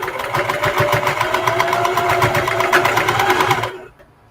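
A sewing machine stitches fabric for a nursing pillow in a fast, steady, close mechanical chatter that runs for several seconds and then stops abruptly, leaving near silence.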